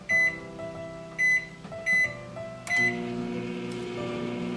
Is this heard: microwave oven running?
yes